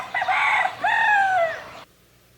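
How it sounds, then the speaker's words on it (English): A single rooster crows loudly and close by: a rising first note, a brief pause, then a long drawn-out tone that stops sharply into near silence. "I have a rooster friend."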